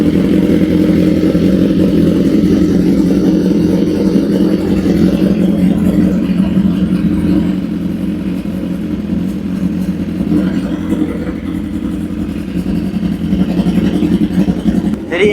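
A stage 2 tuned motorcycle engine idles loudly while warming up, a deep continuous rumble recorded close, with slight rises in revs and a brief voice partway through.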